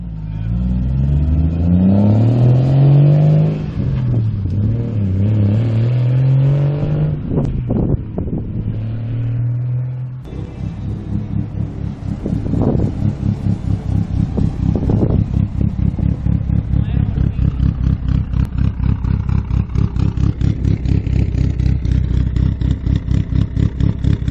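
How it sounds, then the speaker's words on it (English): Dymon Performance Toyota Supra doing a burnout, its engine revving hard with rising and falling pitch, then settling into a loud, fast rhythmic exhaust burble and tire roar, close by. "Dude, burnout!"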